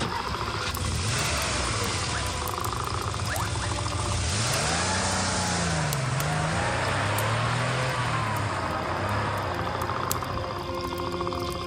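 A car engine turns over and runs steadily, loud and close, with rising and falling revs partway through and a busy, noisy background.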